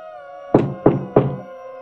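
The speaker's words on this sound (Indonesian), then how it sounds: "suara ketukan pintu terdengar dari luar" Three firm knocks on a door in a hospital horror tale, evenly spaced and close, each a dull wooden thud ringing briefly over a sustained eerie tone.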